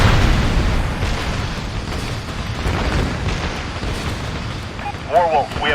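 A destroyed ICBM explodes in the Ace Combat Assault Horizon video game, a long, loud rumbling blast that fills the whole stretch, with a short brighter burst of game sound near the end.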